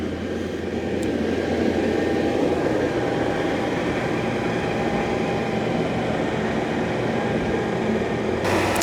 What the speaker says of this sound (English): So it undocks itself, goes in a circle. Now it's vacuuming.